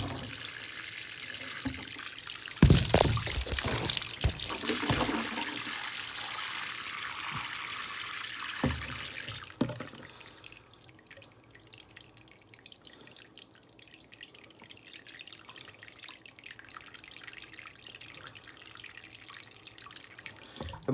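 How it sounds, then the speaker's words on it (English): Water pours from a large watering can onto the soil of an indoor fruiting plant in a big pot of about 20 gallons, a steady loud splashing flow for several seconds that then drops to a quieter trickle and drip. "And now it really gets watered in."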